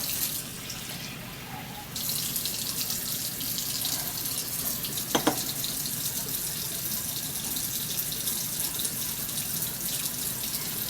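Water pours steadily into jars of stew for canning, a continuous moderate splashing stream that runs throughout, with a brief clink partway through.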